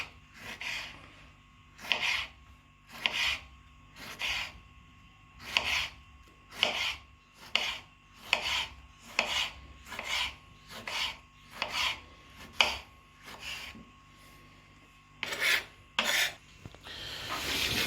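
A knife slices tomatoes and onions finely on a cutting board for an omelette, making a steady series of about a dozen rasping strokes roughly a second apart, close and without speech.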